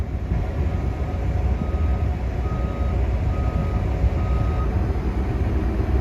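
An old farm utility vehicle beeps steadily as it backs up on a farm while hauling manure. The evenly spaced reversing tones sit over a loud, constant engine rumble.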